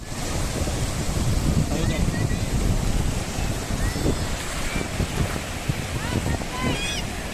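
Steady surf wash on a crowded Goa beach, with wind buffeting the microphone throughout and faint background voices mixed in.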